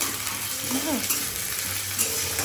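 Onion fries in a pan with a steady close sizzle and crackle, and a few stirring scrapes are heard while no one speaks.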